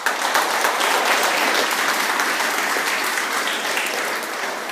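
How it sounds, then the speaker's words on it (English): Steady, loud applause from an audience at a school end-of-year presentation day, a dense wash of clapping that holds strongly throughout and eases slightly toward the end. "Give her another clap, please."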